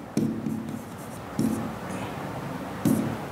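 Chalk or marker writing a maths equation on a classroom board, three distinct bursts of scratchy strokes at steady intervals, close and clear with faint background hum.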